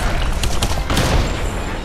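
Gunfire in Lara Croft and the Temple of Osiris, played in co-op: a loud, dense run of rapid shots with booming impacts, steady and close.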